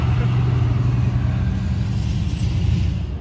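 A Nissan Primera passes close by with a loud, low engine rumble that stays steady and slowly fades, and voices talk over it.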